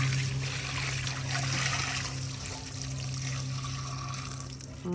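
Dirty water pours steadily out of a container outdoors, a continuous close splashing and trickling rush with no talk over it.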